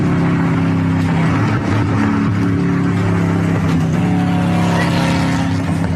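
A car's engine runs loud and close throughout a systems check on a 1.5-mile runway used as a proving ground, with a continuous steady drone and no talk.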